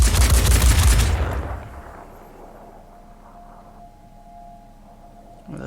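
Mech-mounted guns in Phoenix Point fire a loud rapid burst for about a second, then cut off, leaving a faint low hum and a quiet tone that linger in the background.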